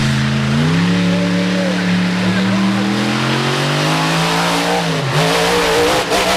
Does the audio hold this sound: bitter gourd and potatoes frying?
no